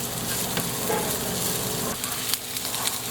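Plenty of onions sautéing in a hot pan for a chicken kaldereta-style stew, with a steady close sizzle and occasional stirring scrapes, and no talking.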